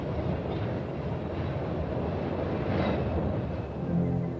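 A PATH commuter train runs steadily beneath the World Trade Center construction site, giving a continuous low rumble and rattle of rail cars throughout, with no voices.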